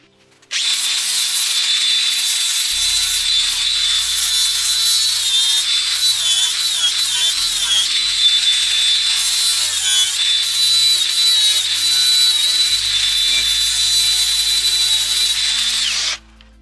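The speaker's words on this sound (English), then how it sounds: "I'm just going to grind down the weld" A grinder works down a weld on a metal dethatcher frame, a loud continuous high-pitched abrasive whine running for about fifteen seconds with slight pitch wavering before stopping abruptly.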